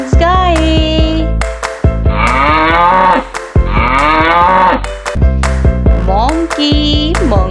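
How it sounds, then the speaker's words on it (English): A cow moos twice, loud and close, each low drawn-out call lasting about a second and a half, separated by a short gap, over a steady background music bed with occasional swooping tones. "Cow"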